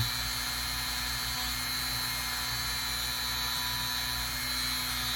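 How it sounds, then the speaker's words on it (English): A Dremel rotary tool with a conical bit polishes a Seiko watch bracelet, a steady loud high-pitched whine with a constant tone running throughout, close up and without talk. "Hopefully this audio is not too terrible with the Dremel going."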